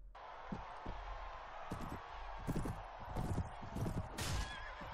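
Horse neighing and clopping hooves in the Mount and Blade Warband medieval battle game, with repeated hoof thuds and whinnies over a steady din of combat noise, fairly loud throughout.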